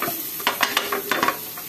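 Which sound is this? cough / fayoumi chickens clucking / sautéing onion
sautéing onion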